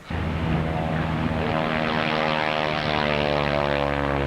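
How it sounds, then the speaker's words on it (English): An Avro Anson Mark V propeller plane flies at an airshow, its engines droning in a loud, steady, even roar that fills the whole stretch with no voices over it. "The Avro Anson Mark V"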